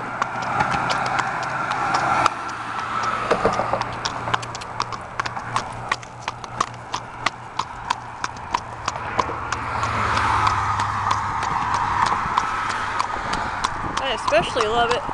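Steady clip-clop of horse hooves on a hard road, a regular rhythmic beat over the whole stretch, with engine noise and faint voices in the background.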